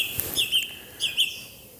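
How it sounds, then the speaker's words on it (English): A song thrush sings in the morning, sending out a few short, bright repeated phrases against a quiet outdoor backdrop. Close and clear, with brief pauses between the bursts. "Lovely to hear the song thrush first thing in the morning."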